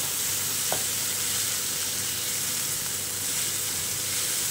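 Onion and tomato frying together for misal, giving a continuous close sizzle with a single faint stir scrape early on.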